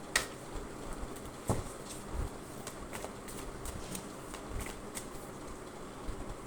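Tarot cards being shuffled at a reading, a soft papery riffling and slapping that rises in brief bursts over a faint, steady background, fairly quiet and close with no talk.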